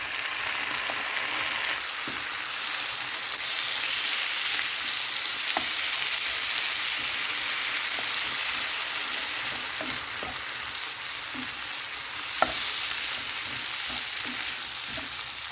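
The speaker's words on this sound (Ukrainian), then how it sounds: "Смажу я на середньому вогні." Lavash (pita bread) snacks sizzle and crackle steadily in a hot pan over medium heat, a constant close-up frying hiss with occasional small pops and no talking.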